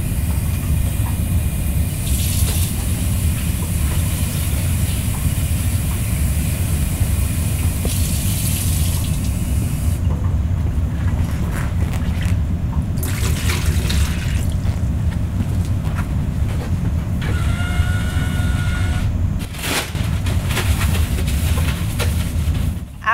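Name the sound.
emptying and rinsing a basin with water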